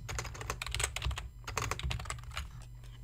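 Rapid typing on a computer keyboard, a close, steady clatter of key presses lasting a few seconds with no voices.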